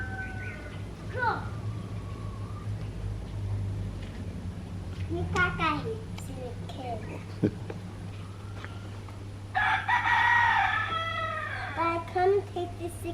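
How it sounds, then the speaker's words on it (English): Chickens cluck and a rooster crows at a distance in an island outdoor setting. Someone talks over them and background noise is steady. "That's chicken. Hear that? Hear that sound?"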